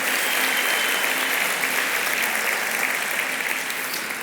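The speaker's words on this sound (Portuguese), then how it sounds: "Você pode dar um forte aplauso ao Senhor?" Loud, thick applause from a church congregation praising the Lord fills the space evenly from start to finish.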